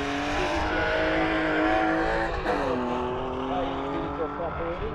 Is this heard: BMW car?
yes